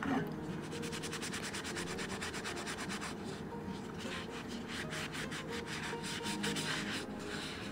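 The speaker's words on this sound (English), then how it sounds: "I'm just gonna rub that in a little better." Dark wax is rubbed by hand into a thrifted home decor piece, making a quiet, continuous rasp of close rhythmic strokes with no talking.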